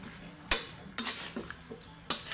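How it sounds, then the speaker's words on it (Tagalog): A spoon stirs Filipino chicken curry with papaya in a pot, giving several sharp metallic scrapes and clinks at irregular intervals over a soft sizzling background. "Yan, natin munang halo-haloin para kumapit ang laman bago natin yung hulugan ng gata."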